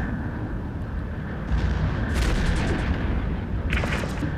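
Auto cannons fired by a Stabber II cruiser in an EVE Echoes solo PvP fight, a continuous rumbling barrage of heavy thuds with sharper crackling impacts breaking through partway and near the end.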